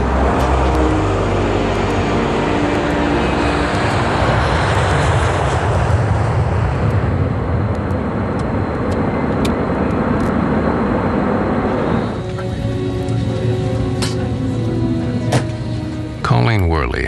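Alaska Airlines Flight 261 airliner taking off, a loud sustained jet engine roar that builds and rumbles heavily for most of the stretch, then thins out near the end as the noise recedes.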